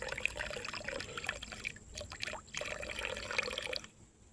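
Water poured off gold panning concentrates from a backyard fill pile, a steady splashing trickle lasting about four seconds with a brief dip midway, then cutting off.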